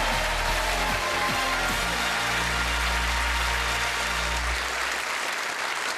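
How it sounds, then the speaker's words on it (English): A game-show studio audience bursts into sustained, loud cheering and applause that fills the room, with a low electronic tone underneath that fades out near the end. "Give him a big cheer."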